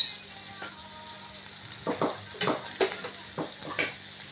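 Spring onions frying in a pan, a faint low sizzle with a few scattered louder crackles and stirring clatters close by, no speech.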